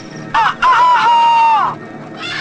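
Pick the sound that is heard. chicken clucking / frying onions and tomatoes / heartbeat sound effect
chicken clucking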